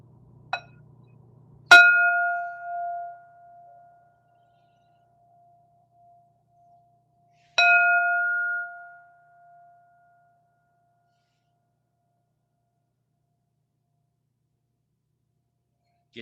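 A single sharp metallic bell strike, used to mark the second stage of a guided breathing practice, rings out and decays slowly, followed several seconds later by a second identical strike, then quiet.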